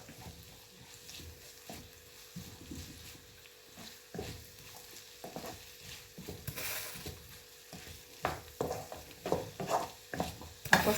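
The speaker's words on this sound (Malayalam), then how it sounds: "സവാള ഒന്ന് വഴന്ന് വരാൻ വേണ്ടി" Onions sauté in a pan while being stirred, a soft steady sizzle broken by scraping and clattering strokes of the spoon that grow louder toward the end.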